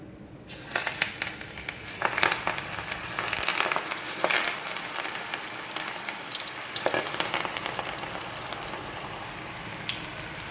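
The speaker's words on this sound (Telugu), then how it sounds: "ఆయిల్ ఆయిల్ చక్కగా కాగిపోయింది ఇప్పుడు మిల్ మేకర్ పకోడీ వేసేసుకుందాం" Soy chunk pakodas hit hot oil and fry in a dense, crackling sizzle, with sharper bursts of spatter rising and falling over a constant bubbling hiss.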